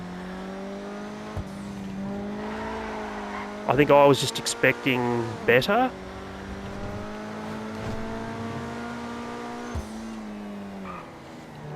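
A Coquette D10 Pursuit police car in GTA Online runs with a steady, droning engine note, broken by a short burst of revving and tire squeal midway, while someone talks over it.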